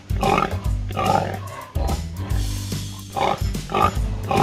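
Farm pigs grunt and oink in short, deep bursts, several close loud calls with brief pauses between them, mingled with higher squeals.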